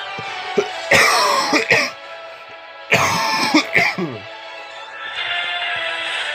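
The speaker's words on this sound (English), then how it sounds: "sorry if you hear me coughing in the background" Two harsh, close coughing fits with throat clearing from a man with a cold, separated by a brief pause, followed by quieter background noise.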